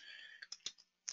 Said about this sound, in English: just with a few mouse clicks.